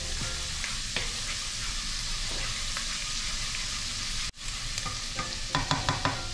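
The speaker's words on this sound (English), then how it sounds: "So first we'll saute the garlic." Garlic sautés in oil for an Indian-style curry, giving a steady close sizzle with intermittent scraping stirs. There is a brief dropout partway through, then a run of sharper stirring clicks toward the end.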